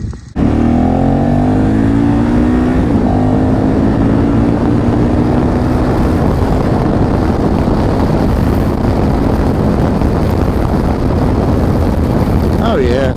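A KTM 1290 Super Adventure S motorcycle engine pulls hard under throttle, a loud, steady, close roar with rising harmonic tones through the opening seconds, wind rush constant throughout.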